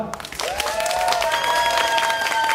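Applause from a concert audience at a live pop show breaks out and holds steady as dense, continuous clapping, with high cheers and shrieks from the crowd rising over it.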